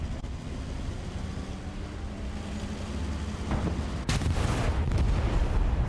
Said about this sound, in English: Gunfire going off.